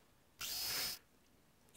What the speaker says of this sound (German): Mit dem Bohrer können wir Löcher reinbohren.